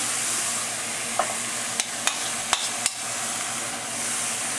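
Ham sizzling in a heated pan, a steady frying hiss with a few light clicks and stirring knocks, close and continuous without talk.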